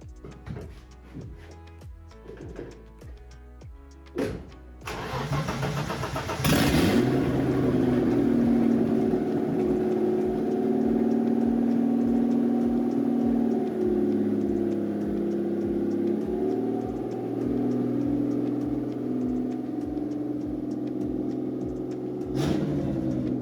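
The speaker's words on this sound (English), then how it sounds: "let's take it for a nice little loud test drive around the backyard" A 35-year-old BMW track car engine with no muffler cranks with a few sharp bursts, catches and roars loudly, rising and falling as it revs steadily nearby in a backyard.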